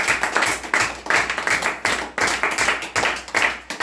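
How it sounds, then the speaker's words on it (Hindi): Rhythmic clapping greets a contestant on a quiz game show, the sharp, even claps landing steadily about three times a second, close and fairly loud, with no speech over them. "तो इसके लिए एक बार इनको जोरदार तालियों से स्वागत किया जाए।"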